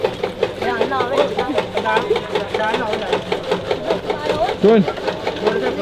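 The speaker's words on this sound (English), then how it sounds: "some fresh grass that they are cutting up using a machine" A machine chopping fresh grass into animal feed in a Punjab village, a steady rhythmic mechanical chugging and whirring, loud and close throughout, with voices talking over it.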